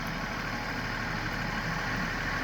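Compact John Deere 3038E tractor with hydrostatic drive idles steadily nearby, a continuous low engine hum with no talking.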